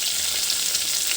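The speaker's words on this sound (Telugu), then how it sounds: "ఆవాలు, జీలకర్ర, కరివేపాకు, పచ్చిమిర్చి, పసుపు, ఆయిల్ వేసినాను" Mustard seeds, cumin, curry leaves, green chillies and turmeric tempering in hot oil, giving a steady, close, continuous sizzle and crackle with no pauses.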